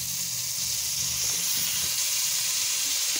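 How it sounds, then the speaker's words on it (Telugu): Chicken frying with onions and ginger in hot oil, a loud, steady, bright sizzle that holds evenly from start to finish, close up and without talk. "ఇప్పుడు చికెన్ అది ఉల్లిపాయలు అల్లం మనం తురుము ఫ్రై చేస్తాం కదా, సగం ఫ్రై అయిన తర్వాత ఈ చికెన్ కూడా వేసుకుని"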